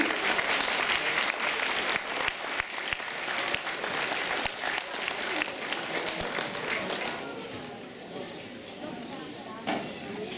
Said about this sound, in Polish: Wielki brawa.